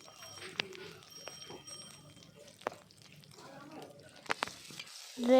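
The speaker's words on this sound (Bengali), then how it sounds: "আদা রসুন বাটাটা দিয়েও হালকা করে নেড়ে চেড়ে নিলাম" Ginger garlic paste fries in a pan while being stirred, a low crackling sizzle broken by sharp spoon taps and scrapes against the pan, with a voice speaking over it.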